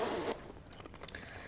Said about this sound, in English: So the zipper is buttery soft